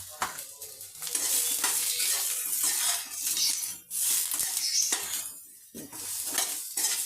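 Eggplant seasoned with turmeric and chili sizzles in a pan, with irregular stirring scrapes and light clinks of a utensil breaking through the close, bright frying hiss.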